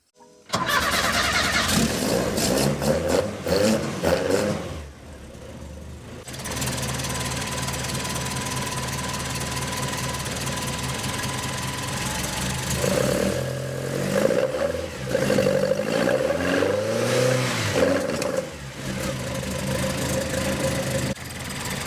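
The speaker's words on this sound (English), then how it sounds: "I'm going to run the engine quickly" A Ford Escort Mk1 ST170 engine cranks and catches, then settles into a steady idle with a couple of revs, loud and close throughout.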